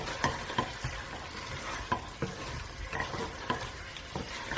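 Pepper chicken fry being stirred in a pan with ground fennel, black pepper and cumin, a steady low sizzle broken by repeated scraping strokes of the spoon, close and moderately quiet with no talk.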